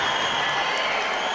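A judo crowd in the Tashkent Grand Prix arena breaks into applause after a throw, a brief, full burst of clapping and crowd noise that stays steady throughout.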